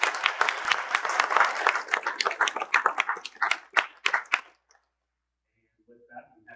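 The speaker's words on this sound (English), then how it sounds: "Can I get a round of applause for everyone in the audience?" Round of applause from the audience at a community bison project event in Peoria Heights, a burst of clapping for about four and a half seconds that cuts off into quiet, with faint speech resuming at the end.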